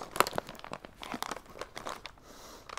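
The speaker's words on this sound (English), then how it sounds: "Tear open foil package across dotted line and remove pads." Foil package of AED electrode pads being torn open, crinkling and tearing in quick bursts over nearly three seconds, close and fairly quiet, with no talking.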